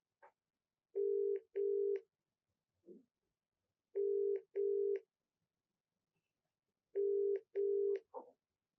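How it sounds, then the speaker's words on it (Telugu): A telephone call is dialed and rings: a short tone, then three sets of paired ringback tones repeating at steady intervals, with faint clicks between them and no talking. "ఒకసారి కాల్ చేస్తాను మేడం."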